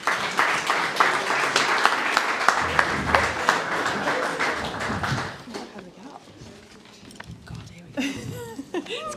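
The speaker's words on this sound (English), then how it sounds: "if I could start with a massive round of applause for the judges" Audience applause for the judges at a startup pitch event in Manchester, steady and loud for several seconds before tapering off, followed by a person talking.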